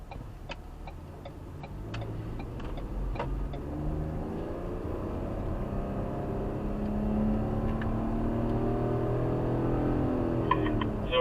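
A Ford ST SUV engine pulls through the gears on a driving course near Asheville, North Carolina, its drone rising and falling in pitch as it shifts and grows steadily louder, with faint ticking clicks over the top.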